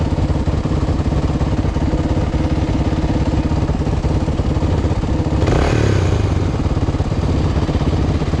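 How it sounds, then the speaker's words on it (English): A big dirt bike's engine runs steadily at close range, a loud rhythmic thumping idle that briefly rises in a rev near the end, with no talk over it. "That's a big bike."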